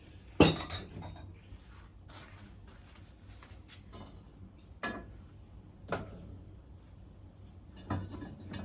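Ceramic bowls clink against each other as they are lifted out of a kiln, a sharp knock near the start followed by several softer, scattered clinks at irregular intervals over a quiet room hush.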